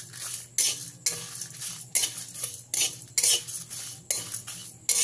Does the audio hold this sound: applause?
no